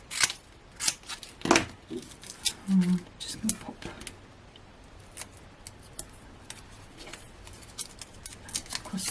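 Scissors snip through 1mm craft card in a few quick crisp cuts, close up, with a person talking over and between the snips.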